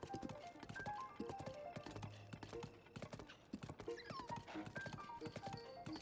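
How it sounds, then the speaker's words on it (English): Horse hooves clip-clop rhythmically in the video game Zelda: Tears of the Kingdom, a busy, fairly close trot with a whinny and layered game sounds throughout. "you can just kind of get your horse started on the path"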